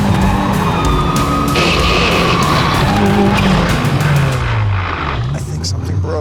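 A car understeering on a track with its tires skidding, a loud, continuous roar of engine and tire noise that holds steady for several seconds before easing slightly at the end.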